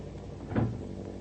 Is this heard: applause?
no